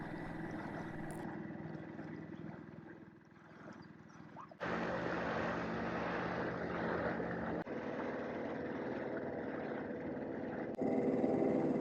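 A dinghy driven by a 4 horsepower outboard motor in a harbor, producing a steady buzzing engine drone that grows louder partway through and stays constant, with wind and water noise around it.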